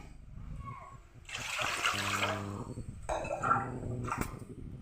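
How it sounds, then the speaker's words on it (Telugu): Water splashes and trickles into a large pan while sajja rava upma is being made, a close, fairly quiet pour with faint kitchen clatter and a voice in the background. "ఇప్పుడు వాటర్ తీసుకోవాలి కాబట్టి ఎసురు అయితే మనం మరిగించుకోవాలి కాబట్టి కొంచెం పెద్ద బాండీ తీసుకుంటున్నాను"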